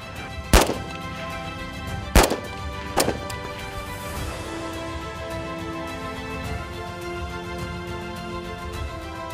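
Gunshots at a military shooting competition among servicewomen: three sharp, loud shots in quick succession near the start, followed by a lingering background hum.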